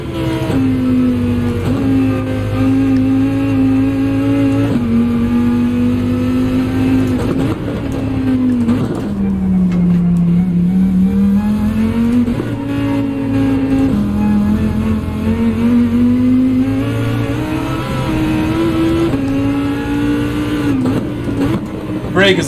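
Race car engine in Gran Turismo holding a steady loud drone, with its pitch rising and falling as it revs and shifts down through gears; someone talks over it throughout.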